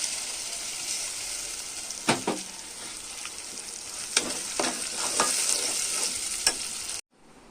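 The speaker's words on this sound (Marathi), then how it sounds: "हे बघा झालेला आहे मसाला पूर्ण भाजून. मस्त परतून घेऊया." Roasted spice masala stir-fried in a pan for a home-style mutton curry, giving a bright continuous sizzle punctuated by several sharp spatula scrapes before cutting off abruptly, no voices.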